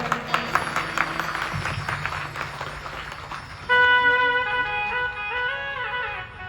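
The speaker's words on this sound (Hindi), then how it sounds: "एक बार जोरदार तालियां बजाओ।" An audience claps loudly at a Shiv Mahapuran religious discourse, with dense applause at first, and then sustained musical tones and voices rise over it.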